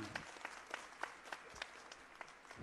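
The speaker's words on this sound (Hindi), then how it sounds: "ये गौर से एक बार जोरदार तालियों से अभिनंदन" Faint, scattered applause from a crowd welcoming the Chief Minister at a public event in Kondagaon, distant, with sharp individual claps standing out at intervals.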